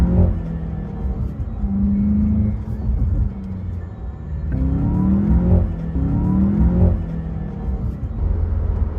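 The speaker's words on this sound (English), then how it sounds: "you can hear the diverter valve kind of open and close really quickly" A VW Jetta GLI under throttle, the engine droning loud and steady with rising revs, while the turbo diverter valve opens and closes quickly during gear changes.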